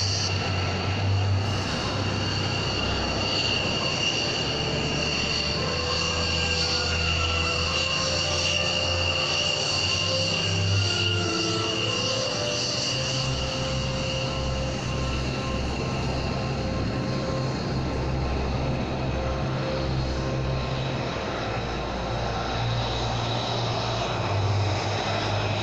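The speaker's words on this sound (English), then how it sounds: "preparing to enter the aerobatic box, the Red Bull Air Force." Red Bull Air Force aerobatic aircraft fly at the Nellis airshow in Las Vegas, their engines a continuous loud drone with shifting tones and whines as they maneuver, heard alone with no talk.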